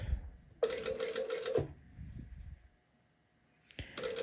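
A sewing machine stitches fabric binding at a 3mm stitch length in two quick whirring bursts: a longer run near the start and a short one at the end, with a quiet pause between.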